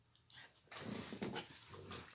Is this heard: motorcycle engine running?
no